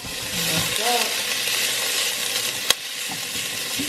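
Onion sizzles in oil in a pan, a steady bright frying hiss with faint voices talking underneath and one sharp click partway through.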